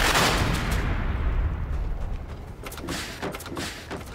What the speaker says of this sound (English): I wonder what would happen if I threw a grenade.